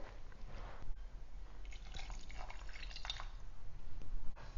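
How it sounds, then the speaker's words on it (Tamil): Water with ground masala in it is poured into a papaya curry in a pot, giving a quiet, gurgling trickle with small drips and splashes. "இப்போ பப்பாளி வேகிறதுக்கு கொஞ்சம் வாட்டர் ஆட் பண்ணுறேன்"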